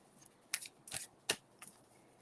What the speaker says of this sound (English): Okay, I got to shuffle these cards.